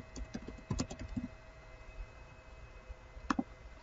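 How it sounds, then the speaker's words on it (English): Scattered laptop keystrokes, a quick cluster of light clicks, a long pause, then a couple more taps, close and fairly quiet over a steady background hum. "you have to go here and type here device manager."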